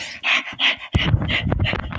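Rapid dog panting from a Five Nights at Freddy's video game comes in quick breathy bursts, then a louder rough stretch of huffing and whimpery breaths, close up with no talking.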